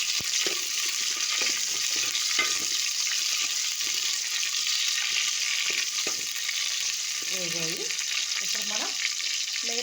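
Okra frying in hot oil for Andhra-style sambar, a steady bright sizzle throughout with occasional stirring scrapes and clinks of a utensil against the pan, close and continuous with no talking.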